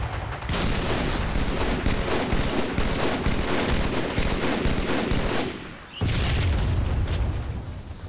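Continuous rapid gunfire from a video game shooter with a laser rifle, dense and loud, briefly dropping off before resuming just as heavily.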